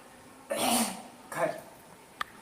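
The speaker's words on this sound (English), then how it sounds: "let me just clear my throat one more time." A man clears his throat close by, one long rasping rumble and then a shorter second one, ending in a small click, all fairly quiet.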